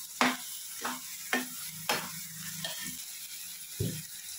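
Ground onion, tomato and dried coconut masala fries in a pan, with about six distinct stirring strokes scraping the paste at an uneven rhythm over a soft sizzle, close and fairly quiet.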